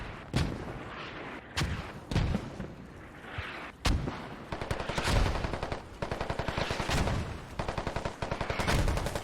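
Heavy booming mortar and gun fire in a competitive video game match, with repeated loud impacts early on followed by rapid rhythmic bursts of automatic fire, all close and dense.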